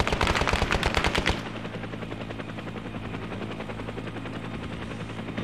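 Gunfire in the Arma 3 military game, a dense rapid burst of loud shots for the first second and a half, then a steady rumbling engine-like drone with faint distant popping underneath.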